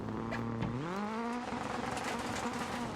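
An all-wheel drive rally car accelerating while steering hard, its engine note droning steadily and then sweeping upward in pitch as it revs, loud and close with no talking.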